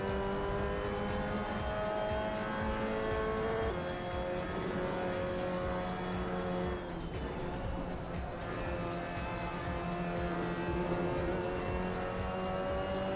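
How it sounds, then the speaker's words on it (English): Several Mazda MX-5 race cars are heard in the Assetto Corsa racing game, their engines droning steadily and loudly throughout with layered revving tones and no pauses. "All these beautiful MX-5s."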